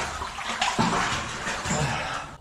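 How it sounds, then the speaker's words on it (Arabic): Cold fresh water flows in a narrow cave, a loud, steady rushing splash close by with a few surges, and no voices over it. "شوف هذه مياه تظهر كأنها مياه عذبة"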